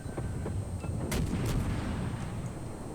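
A muffled torpedo hit in the naval game World of Warships lands as a few heavy, rumbling booms over a constant low ship-engine drone, with no talk during the impacts.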